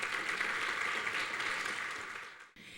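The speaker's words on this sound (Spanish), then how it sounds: "con un fuerte aplauso" A church congregation breaks into steady applause during a Spanish-language service, many hands clapping together at a moderate distance before the sound cuts off abruptly near the end.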